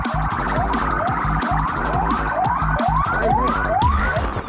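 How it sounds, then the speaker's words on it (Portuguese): A Military Police car siren wails loudly during a chase, repeated rising sweeps over a rhythmic electronic yelp, close and continuous with no talk. "a Polícia Militar mantém uma distância de segurança e aciona os seus sinais sonoros e luminosos"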